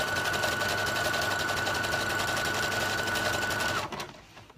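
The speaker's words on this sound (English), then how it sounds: "it's just folded under and you're just stitching all the way around." A sewing machine stitches steadily around folded-under fabric edges, a loud continuous motor whir with rapid needle clatter that runs without pause for nearly four seconds before stopping abruptly.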